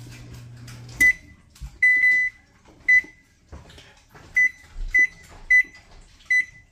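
An oven control panel chirps a series of short, clear electronic beeps at uneven intervals while the bake temperature and timer are set, close by in a quiet kitchen.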